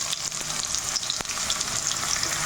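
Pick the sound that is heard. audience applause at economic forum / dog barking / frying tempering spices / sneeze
frying tempering spices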